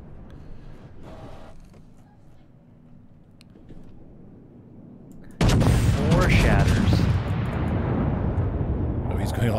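Ship guns firing high-explosive shells in World of Warships, a massive booming salvo that erupts suddenly midway and rolls into a long, loud rumbling tail, after a quieter stretch of faint game ambience and distant thuds.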